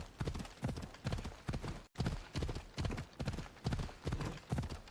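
Rhythmic horse hooves clip-clop steadily at a trotting pace in the video game Assassin's Creed Odyssey, close and clear, with a brief dropout midway.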